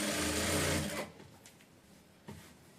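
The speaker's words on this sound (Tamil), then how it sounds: "மேல் தையலாக போட்டுக்கணும்." A sewing machine stitches a blouse border, running in a loud, close whirring burst for about a second before stopping, then giving a brief second whir near the end.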